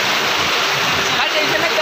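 Floodwater rushes across a road in a loud, unbroken roaring wash of noise that fills the whole scene, close and steady without pause.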